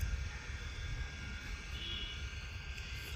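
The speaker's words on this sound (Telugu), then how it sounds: "ఇప్పుడైతే మేము డ్రోన్ అయితే ఎగరేసాము." A small drone hovers and climbs outdoors, giving a faint, steady high-pitched whine from its propellers over low wind-like rumble, with no clear voices.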